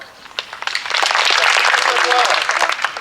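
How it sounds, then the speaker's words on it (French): An outdoor crowd at an Ancient Greece reenactment demonstration in Châtillon-sur-Seine claps steadily, building quickly to a full, sustained round of applause, while a voice speaks faintly beneath it. "je vous propose d'applaudir tous les membres bien fort"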